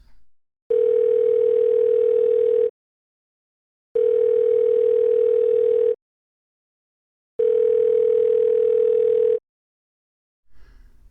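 A telephone call ringing out unanswered: three long, identical steady tones, each about two seconds, separated by silent gaps, loud and close as if heard through the handset.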